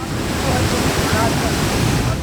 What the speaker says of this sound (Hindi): पानी के प्रचंड प्रहार की तस्वीर बिहार के सुपौल से आई है